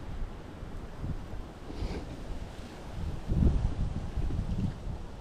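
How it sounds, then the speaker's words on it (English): Heavy wind buffeting the microphone, a steady low rumble that swells louder in gusts toward the end, with no voices. "because it is absurdly windy out"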